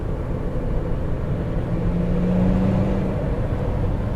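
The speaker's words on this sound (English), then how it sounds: "There's a lot of intake noise." Steady low engine drone and rumble from inside a moving 2012 Honda Civic Si, with a faint rising whine midway as the intake noise swells slightly.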